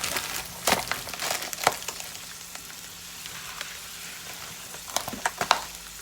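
Shrimp sizzle in a hot pan with rice, a continuous close crackling fry with occasional sharper pops and stirring scrapes, steady and fairly loud.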